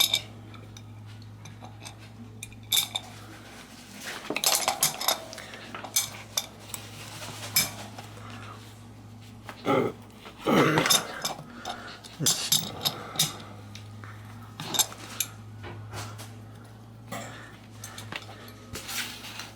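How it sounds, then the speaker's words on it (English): A lock nut is worked loose on a Bendix 70 coaster brake hub, with scattered metallic clicks, taps and tool clinks against a steady low hum, irregular and close. "I'm going to take this little lock nut off here, loosen this, hold the brake on the bottom side here."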